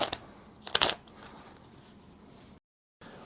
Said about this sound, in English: When I have done these shuffles, full shuffles, yeah, one more shuffle.